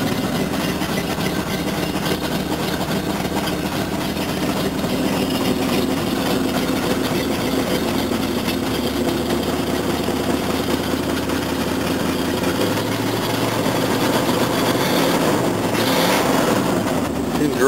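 A 1985 GMC Suburban engine idles cold with a low, uneven rumble and faint ticking puffs from an exhaust leak, close by and continuous, with no talking.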